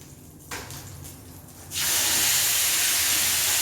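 Hare meat dropped into hot olive oil in a pan, a faint hiss first, then a loud steady sizzle that holds to the end.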